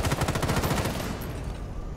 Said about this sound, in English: They just shot out a window